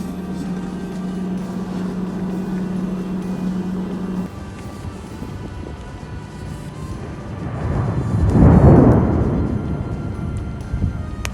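A deep rumble of thunder from a tornado-producing storm in West Texas rolls in and swells loudly near the end over a steady engine-like hum.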